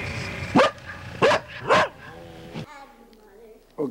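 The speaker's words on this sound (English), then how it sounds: "Bark again, George." A dog barks three times in quick succession, close and loud, followed by a quieter stretch with talking and a short final yip.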